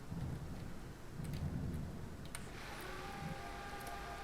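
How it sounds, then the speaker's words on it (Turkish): Steady heavy rain with low rolling thunder in the Car Dealership video game, a continuous wash of downpour with deep rumbles swelling and fading throughout, no voices. "beyaz bulutta da yağıyor"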